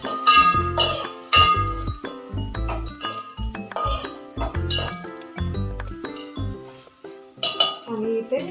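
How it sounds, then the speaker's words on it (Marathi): Tomatoes fry with onions in a pan for an egg biryani, giving a continuous close sizzle broken by repeated clinks and scrapes of a spoon stirring against the metal. "आपण आता याच्यात टमॅटो घालून घेऊ."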